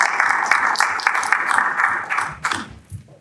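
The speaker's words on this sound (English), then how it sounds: "Let's give the producer a round of applause" Applause from a film-festival shorts panel audience welcoming a producer on stage: dense, loud clapping that holds steady, then thins and fades out over the final second.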